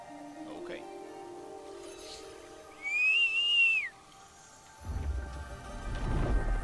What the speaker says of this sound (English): Just whistle, and my giant rock golem bull will come like a little puppy.